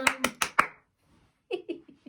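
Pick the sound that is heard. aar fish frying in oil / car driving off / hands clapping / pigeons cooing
hands clapping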